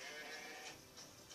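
A sheep in the video game Grow Home bleats faintly in a couple of short wavering calls over a hissy game background.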